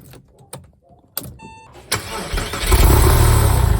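A Porsche 911 of the 996 or 997 generation is started: clicks and a short electronic chime, then the engine cranks and catches into a loud, rising idle close by.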